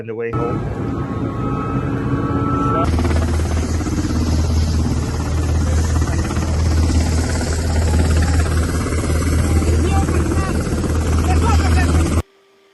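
A rescue helicopter in Israel flies on, its rotor and engine making a loud, steady thudding roar that fills the whole stretch before cutting off abruptly near the end, with a voice audible at times underneath.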